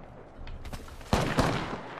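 Gunfire crackles in an Apex Legends match, with faint distant pops followed by a sharp, louder shot and a few quick follow-up bursts that fade out within two seconds.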